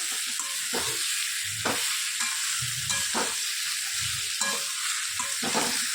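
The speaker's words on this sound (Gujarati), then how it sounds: "સરસ આપણા પાતરા વઘારી દીધા છે." Colocasia leaf rolls (patra) frying in plenty of oil during tempering, a steady close sizzle broken by repeated low scraping stirs every second or so.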